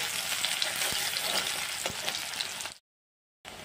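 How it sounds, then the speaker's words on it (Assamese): Onion sizzling loudly in hot oil with faint stirring taps. The sound cuts out briefly to silence near the end, then resumes. "পিঁয়াজখিনি অলপ ভাজি ল'ম।"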